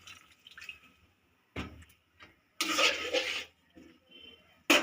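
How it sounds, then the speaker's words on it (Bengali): Water poured into a cooking pot of shukto with pumpkin, in two short splashy bursts separated by quiet, with a final brief splash at the end; close and moderately loud, no talking. "আমি এখানে আর একটু জল অ্যাড করে দেবো।"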